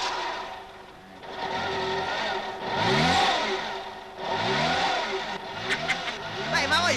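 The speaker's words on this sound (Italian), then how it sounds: "Rimetta in moto." A car engine cranked and revved in repeated rising surges, each swell of revs climbing and falling back, fairly close and loud, with people talking in the background.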